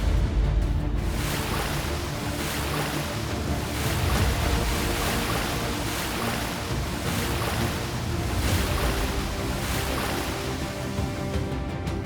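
Waves on a calm Pacific Ocean wash in a steady, continuous roar with gentle rhythmic swells, with no voices.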